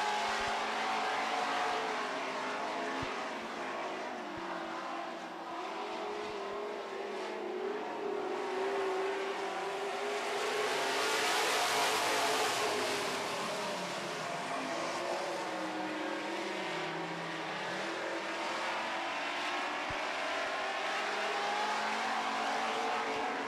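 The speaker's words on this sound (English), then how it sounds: "Kevin Penner gets into the action in the 20 car" Super stock race cars roar around a dirt oval during a heat race, engines rising and falling as they pass, a sustained loud drone with a louder swell midway and no speech.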